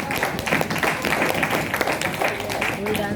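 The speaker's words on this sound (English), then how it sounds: "Can you clap? Yes. Everyone." An audience clapping at an evening event before a dance: steady, dense group clapping close by, with voices talking and calling out over it.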